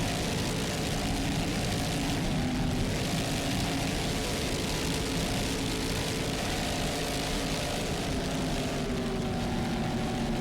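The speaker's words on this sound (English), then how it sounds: "Nick Carter Racing is a 40-foot fountain. Took a first place the other day. It's a tough boat to beat as we go on board. Mercury powered" Powerful Mercury inboard engines drive a 40-foot Fountain race boat in an APBA offshore race, producing a continuous loud, droning roar with no pauses.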